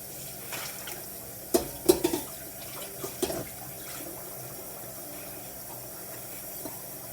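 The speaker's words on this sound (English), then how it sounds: "I'm just rinsing my top here." A pot lid rinsed under a running kitchen tap, with a soft steady hiss of water and a few light clinks and splashes near the start, quiet and close.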